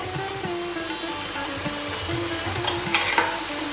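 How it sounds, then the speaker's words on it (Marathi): Tomato and onion sautéing in a pan, a continuous close sizzle with scraping and clinking of a spatula stirring, faint background tones underneath. "पाच मिनिटं तरी आपण व्यवस्थित हे परतून घेणार आहोत"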